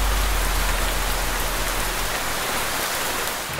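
Heavy rain pours down on a hot day, a dense, loud and steady hiss of drops hitting surfaces that fills the whole stretch with no talk over it.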